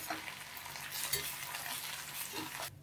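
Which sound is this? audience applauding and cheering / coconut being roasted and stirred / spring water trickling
coconut being roasted and stirred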